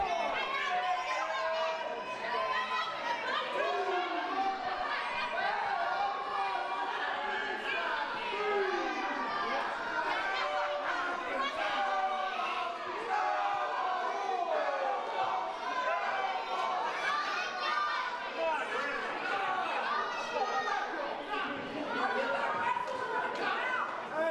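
A large arena crowd around a ring jeers the movie star Swayze with chicken taunts: a loud, unbroken wall of chatter, shouts and cries that carries on at a steady level for the whole stretch.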